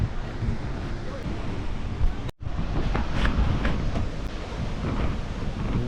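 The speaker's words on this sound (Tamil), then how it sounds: "எனக்கு பின்னாடி தெரியுது தான் வாட்டர் ஃபால்ஸ்." Tegenungan waterfall in Bali roars with a broad, constant rush of falling water, loud and near, with a brief dropout partway through and faint voices in the background.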